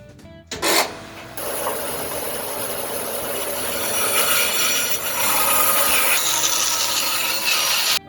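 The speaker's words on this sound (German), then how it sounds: "Ich nehme mir mein Rindenstück, was ich mir zugeschnitten habe, schneide es hier zwischen Bast und Borke auf." A knife cuts a piece of tree bark apart between the bast and the outer bark: one sharp crack, then a long, loud, continuous fibrous scraping and tearing close up.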